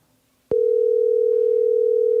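A telephone dial tone starts abruptly after a brief quiet moment and holds as a loud, steady, unbroken hum until the end, before a call is placed.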